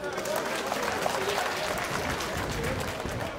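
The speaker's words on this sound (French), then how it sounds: "Applaudissez très fort pour vous." Crowd at a Burkinabè community speech event in Gabon applauding, a dense steady patter of clapping mixed with overlapping voices and cheers at moderate level throughout.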